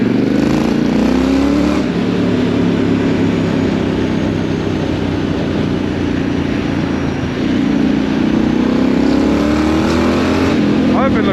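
A Triumph Scrambler 900 motorcycle runs at a steady riding pace, its exhaust a continuous loud drone mixed with wind rush, with slight rises in engine pitch near the start and end.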